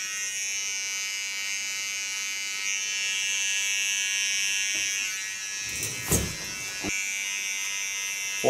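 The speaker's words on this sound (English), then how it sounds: "Take a nice, sharp, small clipper." A small, sharp electric hair clipper trims the contour of a pixie haircut, giving off a close, steady high buzz with a few brief clicks and bumps near the end.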